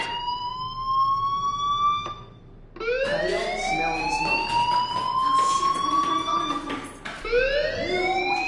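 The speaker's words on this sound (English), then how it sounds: "do you hear that fire alarm? That means you should be outside." Fire alarm in the video game Life is Strange, a loud electronic siren-like tone that sounds steadily, cuts off briefly, then resumes in repeated sweeping wails with no talking over it.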